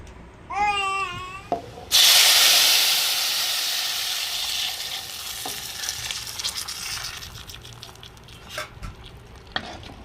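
Mutton and pepper rasam poured into a hot pan with curry leaves burst into a loud, sudden sizzle that hisses steadily and slowly fades. Faint stirring clinks run under it, and a brief high whistling tone comes just before.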